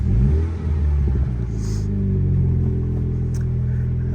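A Mini John Cooper Works starts up as the ignition turns on. The engine catches with a loud rumbling surge, then settles into a steady close idle with no talk over it.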